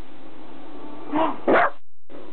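A dog barks twice in quick succession, fairly close, over a steady low background hum.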